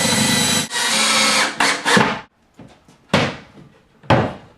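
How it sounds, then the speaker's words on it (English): A power drill bores a counterbore recess for screw heads in kitchen cabinets. Loud, close bursts of drilling come one after another with short gaps, and knocks and clunks against the cabinet wood are heard between them. "Now we're going to drill a slightly bigger hole just at the beginning of it so we can recess our"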